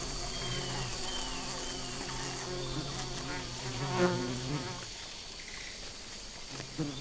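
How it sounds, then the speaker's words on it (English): Bees buzz steadily in the Amazon rainforest, a continuous insect drone layered with other insect hum and faint background noise, fairly quiet and distant throughout. "Bees, so it would seem, capture the vibrations of the Membrasidae."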